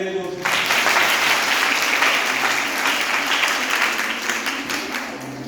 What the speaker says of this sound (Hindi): तो सब बहनों के लिए एक बार ताली बजाइए जोर से।